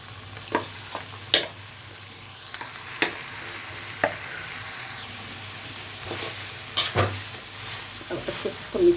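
Potatoes and boiled peas stirred into spices in a pan: a spoon scrapes and clacks in scattered strokes against a soft steady sizzle, close and moderately loud with no talking.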